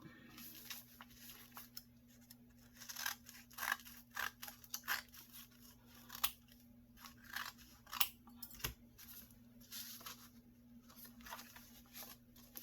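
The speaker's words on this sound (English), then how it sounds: "so I'm going to trim them off a little bit." Scissors trim the edges of paper pages for a junk journal made from a 6x9 envelope, giving quiet, irregular snips and crisp paper rustles close by, with no talking.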